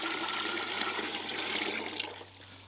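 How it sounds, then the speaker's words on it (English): Cold water gushes steadily into a bucket while being stirred for a cornflake whiskey mash, a continuous close splashing rush that eases off toward the end. "just continue adding cold water, stirring, adding cold water, stirring, until the bucket gets basically full"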